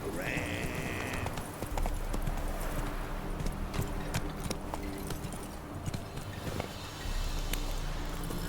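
The horse Roach trots with rhythmic hoofbeats in The Witcher 3, a steady clip-clop under ambient outdoor game sound, with a brief whinny-like tone near the start.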